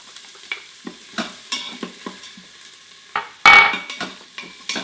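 Onions and garlic sauté in a pot with melted fat, a low sizzle broken by a series of scraping stirs and one louder burst of frying, close and with no talking.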